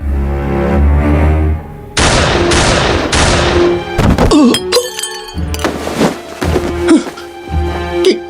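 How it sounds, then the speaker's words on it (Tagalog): Rapid series of loud gunshots, close and sharp, firing in irregular bursts and single cracks with ringing decay between them, no talking. "bigla akong nakarinig ng sunod-sunod na malakas na mga putok"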